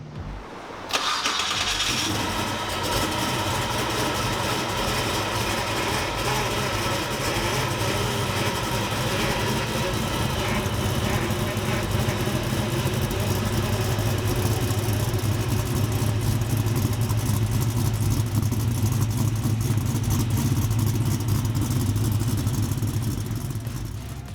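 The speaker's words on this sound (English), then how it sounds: "The exhaust note rumbles thanks to mandrel bent stainless exhaust all the way out the back, and when you start this car, you definitely know it." A 1969 Camaro V8 with mandrel-bent stainless exhaust fires up loudly after a brief crank, then settles into a steady, deep, rumbling idle that stays close and strong for the rest of the stretch.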